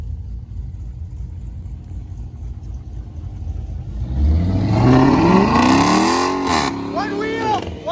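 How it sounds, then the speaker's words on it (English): A car with line lock does a burnout, its engine revving up loud and near from about four seconds in, with rising and falling whine after a low idle rumble; people talk over it. "you're gonna do another burnout"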